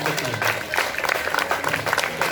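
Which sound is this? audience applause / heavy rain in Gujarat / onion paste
audience applause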